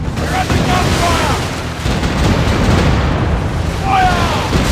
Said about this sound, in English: We're under gunfire!